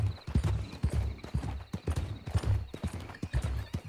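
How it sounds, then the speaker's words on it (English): Horse hooves clip-clop at a steady riding gait in Red Dead Redemption 2, the repeated close hoofbeats forming a quick rhythm, with a brief whinny-like sound mixed in and no talking. "I may encourage our horse just to ride a little bit faster"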